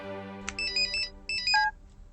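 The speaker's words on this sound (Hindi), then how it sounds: "बार बार क्यों फोन कर रहे हो?" A telephone rings with a short electronic ringtone, two bright warbling bursts close together, moderately loud and alone in a quiet room.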